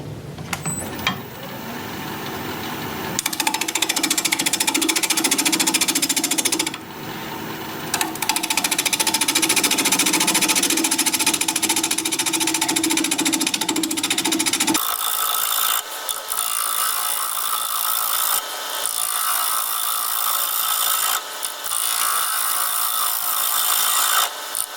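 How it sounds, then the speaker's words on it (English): Wood being turned on a lathe at 840 RPM with a 5/8 inch bowl gouge, flattening the bottom of a bowl: a loud, continuous scraping and rushing cut with brief lulls, the tone shifting partway through. "The first thing I want to do is flatten off the bottom, and for that I'll be using a 5/8 inch bowl gouge."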